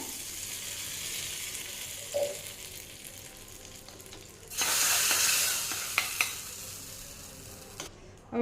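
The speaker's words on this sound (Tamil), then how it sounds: "கடுகு உளுந்த பருப்பு போட்டு பொரிய விட்டு எடுத்துகிட்டு வந்துட்டுங்க" Mustard seeds and urad dal sizzle in hot oil as a tempering for peanut chutney: a steady hiss that flares into a louder, bright crackle partway through, with a few pops and clicks, and no talk.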